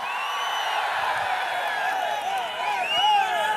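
A crowd at an AIADMK political rally in Gummidipoondi keeps up a continuous roar laced with shrill whoops and whistles, rising slightly toward the end, with voices mixed in.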